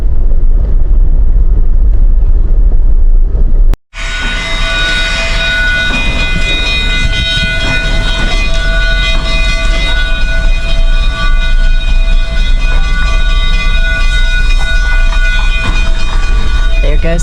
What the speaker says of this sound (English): Goes the Durango Silverton train.